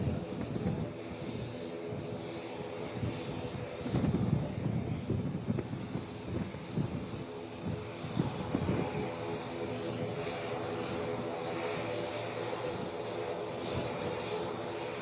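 Fighter jets landing on the Purvanchal Expressway runway near Sultanpur make a sustained distant jet roar, swelling into heavier rumbles twice, with wind buffeting the microphone.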